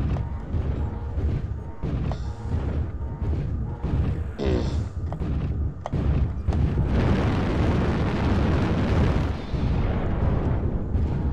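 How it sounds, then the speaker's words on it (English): An artillery strike in MechWarrior Online lands as a series of heavy thuds and booms, building into a sustained, loud rumbling roar over the second half. "Artillery strike on I-10 to H."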